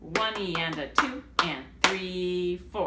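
Hand claps land on the counted beats of a rhythm exercise, a few sharp claps mixed in with a voice counting aloud over them, close and clear.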